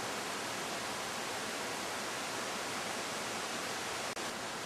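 Steady, broadband rush of a waterfall in a green bamboo forest in Polynesia, constant and close, filling the whole stretch with no voices over it.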